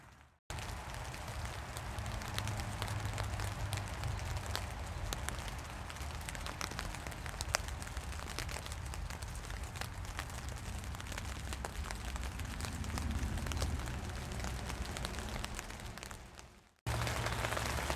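Steady rain falling on a tent, a dense, even patter of drops close overhead that continues for the full stretch with only a brief cut at the start and near the end.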